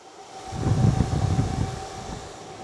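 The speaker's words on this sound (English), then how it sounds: "put them near the fans so you guys can hear them" Steady low whooshing hum of a 12V DC to 120V AC pure sine wave inverter's cooling fans, a broad rumbling drone that swells slightly then settles, with a faint tonal whine above it.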